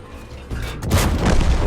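A sharp, heavy cannon-like blast from a T-34-85 tank gun in a video game erupts midway, followed by a booming low rumble that lingers and rolls on.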